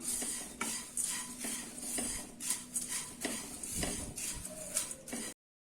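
Thin aval, flattened rice, dry-heated in a pan, a soft rustling hiss with repeated light scrapes and clinks of a spoon stirring against metal, quiet and close, ending abruptly in silence.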